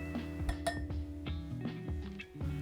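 Hand whisking of eggs and sugar in a bowl for a spiced kabocha loaf cake, a wire whisk clinking and ticking against the bowl in a quick, irregular rhythm, close and fairly quiet.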